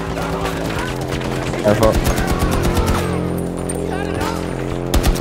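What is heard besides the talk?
teammate shooting gunfire in video game Battlefield 2042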